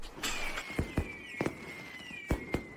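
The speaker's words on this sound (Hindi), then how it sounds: "वह रहा एडन मिस शर्मा के लिए आतिशबाजी छोड़ रहा है" Fireworks being set off outdoors at night, heard as a string of sharp separate bangs and crackles spaced irregularly, with a thin whistling tone trailing across the middle.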